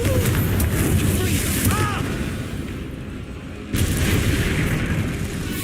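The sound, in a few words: Confringo explosive spell, Hogwarts Legacy video game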